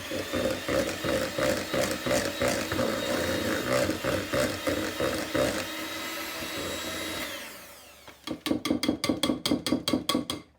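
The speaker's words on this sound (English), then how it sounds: "I'm just going to give it another whiz to make sure everything is properly blended" A food processor whizzes gluten-free bread batter, a loud motor whir that pulses rhythmically, runs steadily and then winds down, followed by a burst of quick pulses near the end.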